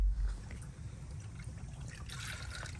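Fluid trickles and pours in a thin, steady stream as oil and coolant are added to a 500hp WS6 car engine, a quiet liquid gurgle lasting a few seconds with a low hum underneath.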